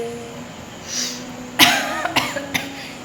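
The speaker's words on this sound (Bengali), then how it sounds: "এত ঠান্ডা লেগেছে কাশি হচ্ছে" Someone with a cold coughs a few times in quick, sharp bursts close by, with quiet room noise before and between the coughs.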